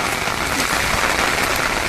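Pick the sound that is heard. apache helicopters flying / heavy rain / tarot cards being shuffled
heavy rain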